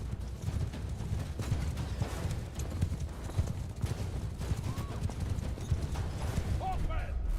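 Horses gallop in a medieval battle in Mount and Blade 2: Bannerlord, a dense rapid clatter of many hooves with battle noise and shouting voices mixed in.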